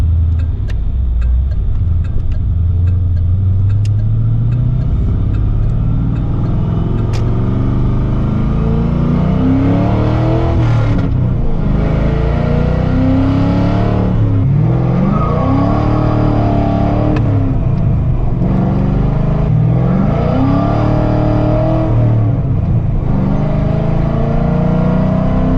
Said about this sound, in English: Let's go for a little drive.